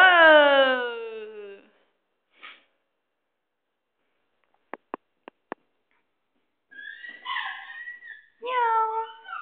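A cat gives a drawn-out, falling meow, then a few soft tapping clicks after a pause, followed by more high, wavering meows near the end, close and fairly loud.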